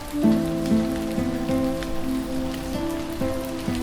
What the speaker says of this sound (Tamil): அப்போ ஒன்று பார்த்து ஜோன்னு மழை